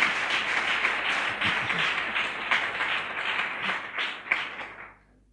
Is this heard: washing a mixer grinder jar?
no